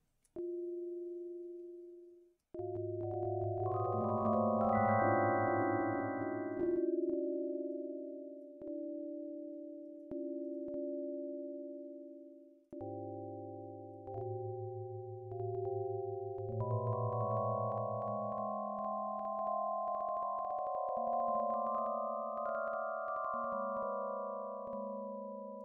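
Steady electronic sine tones generated from EEG channels by a music app, sustained pitches stepping between a few levels in layered chords, with brief gaps, loud and close, no talk.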